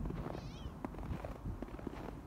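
A hungry cat meows faintly outdoors, a short high cry early on, set against a rough background of wind and rustling.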